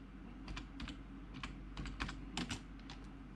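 Keys tapped on a computer keyboard in quick clustered bursts, close and fairly quiet, with no talking.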